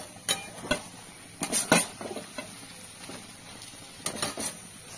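A wooden or metal spoon stirs fish roe in a pan over lowered gas, with soft frying sizzle underneath and several sharp scraping clacks against the pan in uneven bursts, close and alone.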